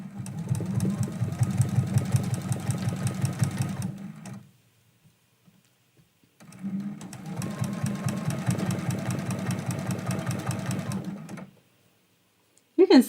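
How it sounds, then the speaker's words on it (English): A sewing machine stitches a Christmas quilt-as-you-go block, running steadily in two long bursts of fast, even humming and rapid needle ticking, close and clear with a quiet pause between them. "I will jump up and stitch his little nose"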